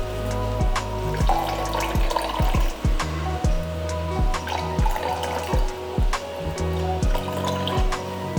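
Water poured into a glass for a Kerala-style mixed juice, an irregular gurgling splash with repeated glugs and clinks close by, alone without speech.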